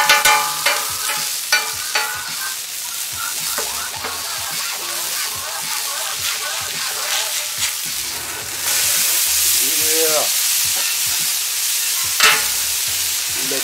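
Smash burger patties sizzling on a 36-inch Royal Gourmet flat top grill, a loud, steady hiss that swells midway, with scraping spatula strokes and a few clanks.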